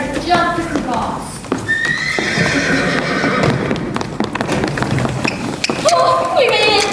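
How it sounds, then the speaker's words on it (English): A horse neigh and clip-clop hoofbeat sound effect plays loudly during a school stage musical, the whinnies rising over steady galloping hooves while actors speak over it. "The horse leapt into the air and jumped across."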